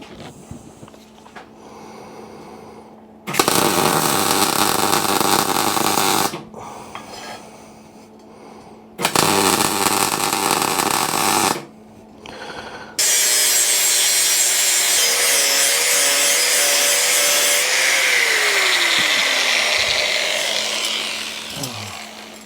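Metal is ground on a Royal Enfield motorcycle project in loud, close bursts of harsh grinding, then a long continuous run that ends with a tone sliding downward as the tool winds down.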